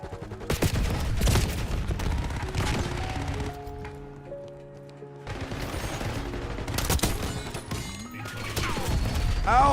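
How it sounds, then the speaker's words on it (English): Rapid bursts of explosions and gunfire-like blasts in a video game match, loud and dense, with a calmer stretch in the middle before the blasts resume. "that's a billion grenades"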